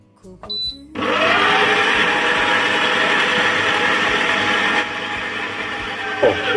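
A bread machine starts up on its dough setting after a few button beeps and clicks, then runs with a steady loud whirring and churning hum that shifts slightly near the end.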